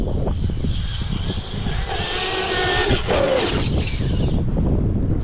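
A Traxxas RC truck races from grass onto dirt, its electric motor a loud, close, continuous high whine that rises and shifts in pitch as it speeds along.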